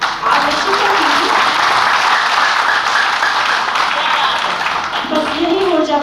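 Audience applause at a Hindi kavi sammelan poetry gathering, a dense steady wash of many hands clapping for about six seconds, with faint voices speaking beneath it near the start and end.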